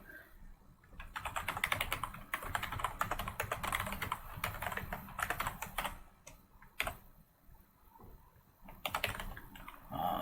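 Steady, close typing on a computer keyboard while writing code, a continuous patter of key clicks with brief pauses between bursts, no voices.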